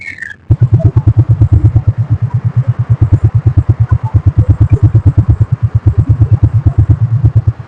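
A Rapido bike taxi motorcycle ride: the engine thrums close and steady with a fast, even pulsing beat that holds throughout, with no talking.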